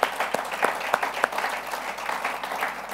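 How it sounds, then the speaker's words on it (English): An audience applauds at a talk event, a fairly loud burst of clapping with a few sharp individual claps standing out early, then settling into a steadier, slightly softening patter. "Let's give a round of applause for that."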